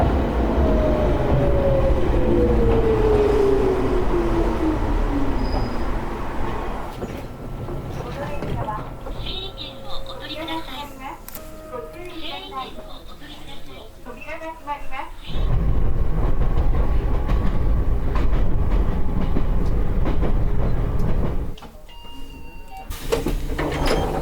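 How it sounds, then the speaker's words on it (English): The Kishigawa Railway strawberry train departs a small station: an electric railcar's rumble and whine, door sounds and a shifting hum rising and falling, with people talking nearby. "there goes the strawberry train after another 2-minute ride"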